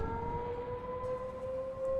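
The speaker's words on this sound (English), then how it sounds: "Why is there an air raid siren?" A wailing air raid siren in the video game Shenmue sounds as a steady sustained tone, moderately loud and unbroken, with no talking.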